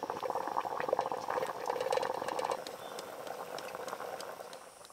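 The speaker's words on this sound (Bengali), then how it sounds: "জল ফুটে ফুটে অনেক কমে গেছে এখনো ফুটছে" A pot of water boils steadily for steaming pointed gourd in a village kitchen, giving a continuous close bubbling hiss that eases slightly partway through.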